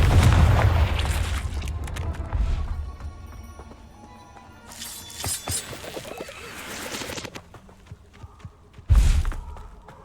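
Confringo blasting spell explosions in the Hogwarts Legacy video game: a loud booming blast at the start, quieter rumbles and crackles mid-way, then another sharp heavy explosion near the end, no voices.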